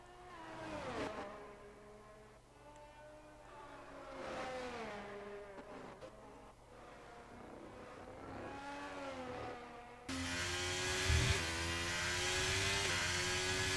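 A race car engine at full throttle sweeps up and down in pitch through turns 8 to 10 at Circuit of the Americas. The engine is loud and steady, then a brighter, noisier roar takes over near the end.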